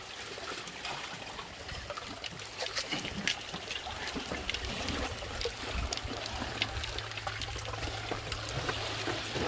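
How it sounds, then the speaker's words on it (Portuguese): Water trickling and streaming down toward a small beach cove during a fishing outing, a steady moderately close wash of flowing water with scattered splashy bursts and a low rumble underneath, no talk. "Olha a água descendo ali."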